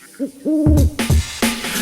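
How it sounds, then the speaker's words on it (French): An owl gives a few clear, close hoots, each with a rising-then-falling contour. Louder, harsh noisy bursts break in around and between the calls. "C'est le dernier ululement du hibou"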